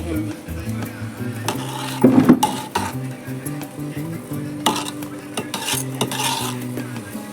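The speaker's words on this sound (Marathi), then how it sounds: "ते असं सेट करून ठेवायचं व्यवस्थित चमच्याने" A spoon smoothing and setting traditional Konkani dhondas batter in a pan, with scraping strokes and soft clinks of metal against the dish, under quiet talk.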